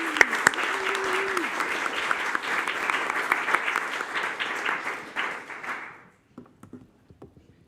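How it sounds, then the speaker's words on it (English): An audience at a climate change festival panel applauds, a dense burst of clapping that holds steady for about five seconds and then thins out into a few scattered claps. "A round of applause for Cabo, everybody."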